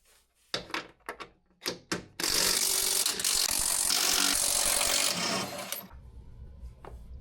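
A ratchet loosening bolts on a supercharged Range Rover during an oil change, with a few sharp separate clicks, then a dense, loud run of rapid ratcheting for about three seconds that fades out.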